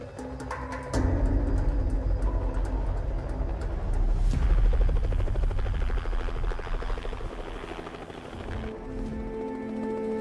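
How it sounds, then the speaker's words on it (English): A helicopter flies during a Bornean sun bear rescue and release in Borneo, its steady rotor drone loud and continuous, swelling midway with a dense rhythmic beat before easing slightly. "The chopper must come back down."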